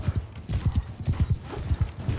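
Horses galloping into battle in Mount & Blade II: Bannerlord, a steady rapid clip-clop of hooves pounding close and loud, repeating throughout with a brief whinny and no talk over it.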